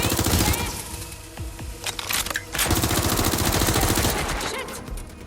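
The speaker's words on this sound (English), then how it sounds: "Getting shot out here! My gun is hot!" Automatic weapons fire in a firefight in the video game Watch Dogs: Legion: rapid bursts of loud, close gunshots, briefly broken by a couple of sharper single reports, then more sustained rattling fire.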